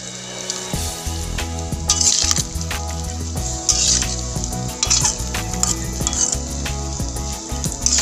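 Beef tripe (kikil) with spices stir-fried in a pan: a steady loud sizzle with bursts of spattering and occasional scraping stirs, close up throughout.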